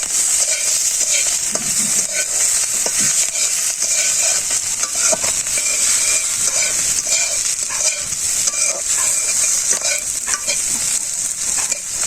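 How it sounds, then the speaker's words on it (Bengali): Onions and vegetables stir-fried together in a pan at a village kitchen, a loud constant sizzle with frequent clinks and scrapes of stirring throughout. "ভালো করে কষে নেব"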